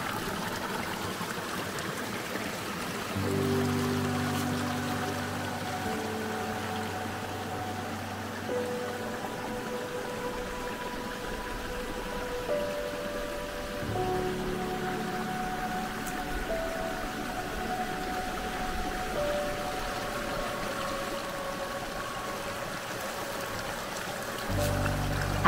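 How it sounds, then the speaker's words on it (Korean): Mountain valley stream in a rocky gorge near Cheongnyangsan, Bonghwa, water flowing and splashing steadily at a moderate level throughout, with faint tonal hums in the background. "이 계곡물은 옥산과 조례실에서 내려옵니다."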